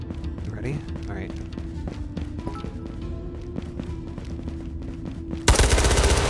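Gunfire in the VR shooter Ghosts of Tabor, including a Makarov pistol: sharp shots and a rapid burst sound amid footsteps and a steady tone, with a sudden loud, close volley at the end and players talking.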